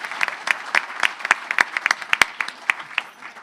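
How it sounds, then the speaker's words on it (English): An audience at a district conference session claps for helpers, a moderate spread of individual sharp claps in an irregular patter that thins out toward the end. "I just want you to give a round of applause for their help."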